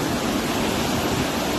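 A rushing mountain waterfall stream in Sonamarg, Kashmir, gives off a brief, steady roar of churning water, an even broadband rush heard close with no voices.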